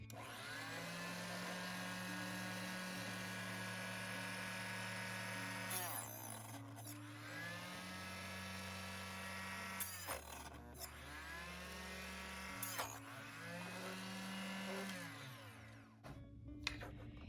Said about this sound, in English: it took me a couple of times in order to get through that, and the reason for that is I'm just fatiguing that blade, and this is a small machine.